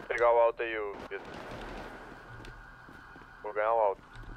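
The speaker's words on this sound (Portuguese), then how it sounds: "já diversos disparos aí" Gunfire in the video game GTA 5 crackles as a short, rough burst of shots between stretches of radio-style voices talking, all at moderate loudness.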